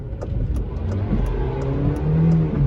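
Car engine revving hard at high RPM while the vehicle stays put, a steady mid-pitched drone rising near the end, with faint clicks over it and no talk.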